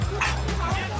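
Dogs bark and yip at an outdoor summer pool party for dogs at Pet-a-Palooza in Victoria, with short, close yelps over steady crowd chatter and voices.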